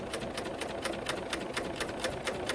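A BERNINA L890 serger stitches fabric in a fast, even mechanical patter of needle strokes, steady and close throughout.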